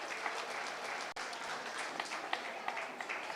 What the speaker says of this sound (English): let's go ahead and give our Nigeria exhibitors a big applause